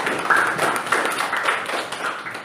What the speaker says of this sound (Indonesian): kita kasih aplaus untuk kelompok 6